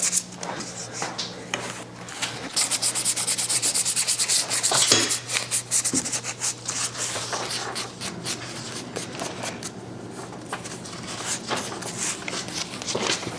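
White sandpaper rubbed over a painted thrifted home decor piece: continuous close scratchy back-and-forth strokes in an uneven rhythm, with a steady low hum beneath and occasional knocks of the piece shifting.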